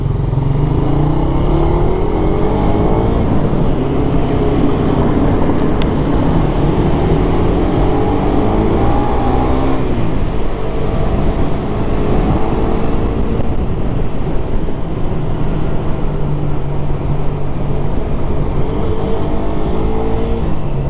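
A motorcycle fitted with a Raiderfi silver canister exhaust runs loud and close, a continuous throaty engine drone with small shifts in pitch and no pauses.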